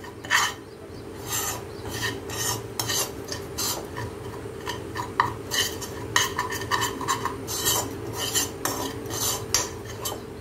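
A spoon stirs stuffed chillies (bharwan mirch) in a pan with the flame switched off, giving steady close scraping and rasping strokes in an irregular rhythm, with no talking.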